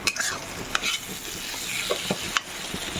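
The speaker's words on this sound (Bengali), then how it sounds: "এটা ভালো করে কষানো হচ্ছে" Crab being sautéed in a pan with ground cumin and coriander, a steady sizzle broken by scraping spatula strokes at irregular intervals, close and clear with no talking.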